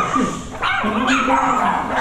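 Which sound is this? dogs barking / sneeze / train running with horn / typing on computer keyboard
dogs barking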